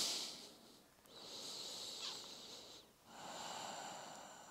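Slow, deep breaths during a full-body yoga stretch, with a long breath sound near the start, another around the middle and a third toward the end, close and fairly quiet, with no talking.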